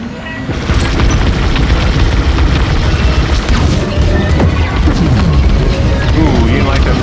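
A torpedo explosion in Star Wars: Squadrons bursts into a loud, sustained rumbling boom that keeps roaring with space-combat noise after a quieter first half-second.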